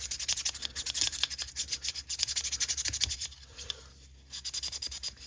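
Rapid rhythmic sanding strokes rasp against the edge of a concept model kit part, loud and close, with a brief pause near the end before the rubbing resumes.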